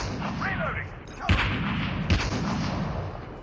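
Distant, long-range gunshots in the battle royale mobile game Call of Duty Mobile, a couple of sharp cracks standing out over a steady low rumble of game ambience.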